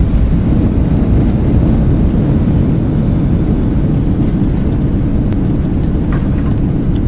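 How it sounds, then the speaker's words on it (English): Embraer E-175 thrust reversers roar on landing in X-Plane 12, a loud, steady, low rumbling wash of engine noise with no break throughout. "Reversers out."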